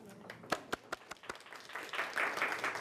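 Audience clapping at a lunch talk, a few sharp separate claps at first that swell into a soft spreading round of applause, fairly quiet.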